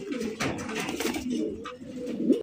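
Chocolate-colored Lakkha fantail pigeons coo nearby in a rolling, low, repeated murmur with a faint rustle underneath, the calls fairly quiet and continuous.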